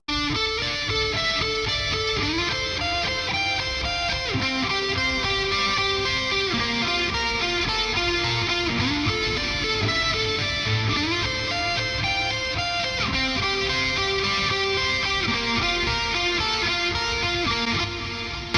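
A distorted electric guitar plays a continuous melodic metal lead with echoing delay, reverb and slight chorus over a backing track, steady and full.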